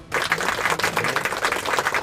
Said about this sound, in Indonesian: adik-adik, tepuk tangan buat KR